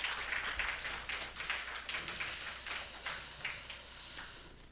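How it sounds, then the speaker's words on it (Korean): A church congregation claps during a Sunday morning worship service, with a steady patter of many hands at moderate distance lasting several seconds. "박수로 축복하겠습니다."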